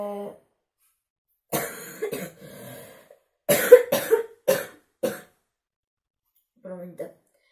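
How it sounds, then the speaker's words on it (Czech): A person with an illness coughs in a series of harsh, close bursts, some in rapid clusters, with short spoken fragments at the start and end. "Já jsem říkal, že tohle video budu kašlat."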